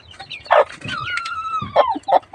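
Desi chickens cluck on a poultry farm, several short clucks and a drawn-out rising call close by, loud and clear against quiet background.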